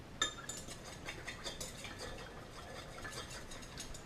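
Soft plastic mixture for a craw fishing lure being stirred in a pot, with quiet, steady scraping and light clinks of the utensil, faint and without talk.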